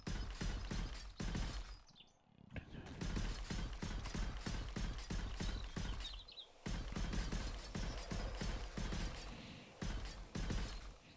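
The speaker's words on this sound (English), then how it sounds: "Love HD nail guns. Best invention ever." An HD nail gun fires in rapid bursts while a base goes up in 7 Days to Die. Dense mechanical clacks repeat in quick runs, broken by short pauses.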